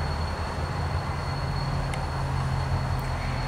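A CSX freight train rolls into a rail yard near Charleston, South Carolina, giving a steady low rumble with faint squeals, heard continuously from fairly close with no voices.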